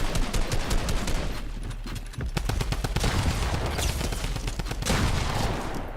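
Rapid bursts of drum gun fire in Fortnite, a dense run of loud, closely spaced shots continuing for several seconds with barely any pause.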